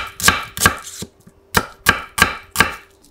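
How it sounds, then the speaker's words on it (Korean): A kitchen knife cuts half a new-season onion into thick strips on a cutting board, giving seven crisp, distinct chops in two quick groups with a short pause between them, close and clear with no talking. "햇냥파 반개도 굵게 채썰어"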